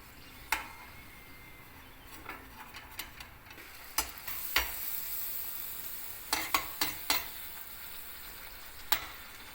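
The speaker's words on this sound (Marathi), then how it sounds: "तुमच्या अंदाजाने अशी मस्त तळून घ्या प्रत्येक पुरी फुलेल" Puris deep-frying in hot oil for a traditional Marathi puri bhaji, giving a soft, low sizzle broken by occasional sharp clicks and taps from a utensil, fairly quiet with no talk.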